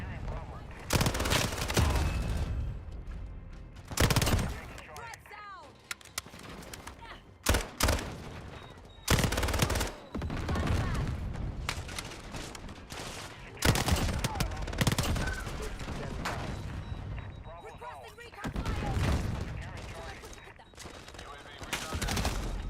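A PPSh submachine gun in a Modern Warfare shooter, fitted with a red dot and laser, fires in loud rapid automatic bursts separated by brief gaps, alongside other gunfire and a voice talking at times.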